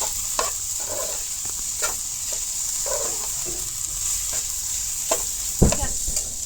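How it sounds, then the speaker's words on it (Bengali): Grated coconut and jaggery are stirred together in a pan, with soft sizzling under repeated scraping strokes of a spoon at an uneven rhythm, close and moderately loud. "একসাথে ভালো করে মিশিয়ে দিন।"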